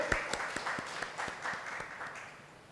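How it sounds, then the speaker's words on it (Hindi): Audience applause at a Hindi talk on healthy living, a short burst of many hands clapping together, moderately loud and fading slightly toward the end. "ताली बजाए इनके लिए।"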